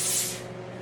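Photo emulsion is sprayed onto a screen in a home print shop, giving a brief hissing burst that fades into a steady softer hiss.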